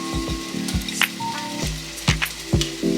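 Onions hit hot olive oil in a Dutch oven, crackling sizzle broken by several sharp clanks and scrapes of a utensil against the pot, close and fairly loud.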